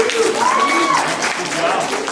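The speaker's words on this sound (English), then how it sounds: "Give yourself a round of applause." Primary school children clap together in a round of applause, steady and moderately loud, with a voice sliding up and down over the clapping.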